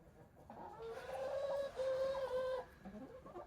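A farm hen gives a drawn-out, wavering cluck close by on a blustery winter day, a single rising and falling call lasting a couple of seconds.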